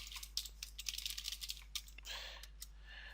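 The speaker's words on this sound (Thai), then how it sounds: "พิมพ์ contact อีกครั้งหนึ่ง" Fingers type on a computer keyboard in short, irregular bursts of light clicks with brief pauses, faint and close, over a low steady hum. No one speaks.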